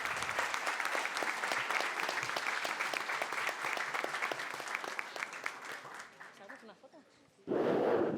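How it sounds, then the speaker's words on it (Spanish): Sustained applause from a crowd at a panel event in Argentina, dense and steady for several seconds, fading toward the end before a loud burst of other sound at the close. "les pido un aplauso"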